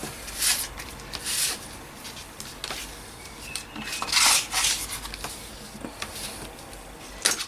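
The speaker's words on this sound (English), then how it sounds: "we'll just give that a little burnish down" Paper is rubbed and burnished down onto a journal cover by hand, making soft, close scraping strokes in irregular bursts over a faint background hiss.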